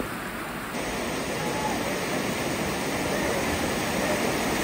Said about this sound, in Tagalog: Yan ang tubig na galing hose nang gagaling sa San Miguel River.